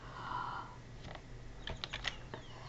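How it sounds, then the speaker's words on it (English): Several quick key presses on a computer keyboard, as when entering a Ctrl shortcut in Photoshop, come as faint clicks in a short cluster under a low room hum, with no voice. "press Ctrl plus 3 from the keyboard"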